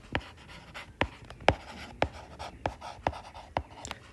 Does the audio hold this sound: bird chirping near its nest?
no